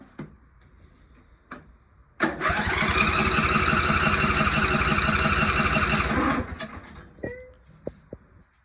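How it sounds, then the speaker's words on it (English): A Briggs & Stratton Intek 21HP engine with a freshly worked carburetor cranks briefly, catches and runs loudly and steadily for about four seconds before dying away, followed by a few clicks and small knocks. "Let's give her a go. Give it a bit of choke. Let's try it without choke."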